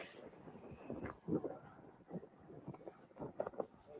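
Wind gusting into an outdoor microphone in Cassopolis, Michigan, uneven low rumbling buffets rising and falling in bursts, close and moderately loud.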